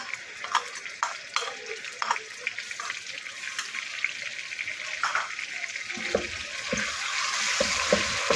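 Ginger garlic paste sizzles in hot oil in a pan, a steady close fry with stirring clatters and brief spoon taps, faint water sounds near the end.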